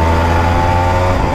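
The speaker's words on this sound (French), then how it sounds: "Seconde, j'embraye, je monte d'un cran, j'accélère et je lâche." A motorcycle engine holds a steady, fairly loud drone while riding in second gear, with a strong low harmonic hum and no clear rise in revs across the short stretch.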